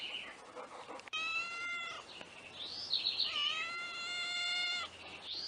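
A timid pet cat meows several times indoors, long drawn-out plaintive calls with rising and falling pitch, fairly close and moderately loud against a quiet background.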